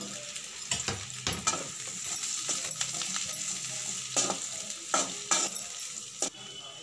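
Mashed boiled potatoes are stirred into onions frying in a pan for a potato kurma. A continuous sizzle runs throughout, broken by repeated scraping and clinking strokes of a spoon against the pan.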